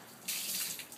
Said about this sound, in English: Is there any water left in your water table?